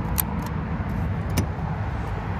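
Rush-hour cars rush past on a nearby road, a steady broadband roar of traffic with a couple of brief higher-pitched swishes, continuous throughout with no talking.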